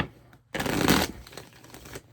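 A deck of cards shuffled by hand during a divination reading: one brisk, close riffling burst lasting about a second and a half, then fading into softer rustling, with no speech.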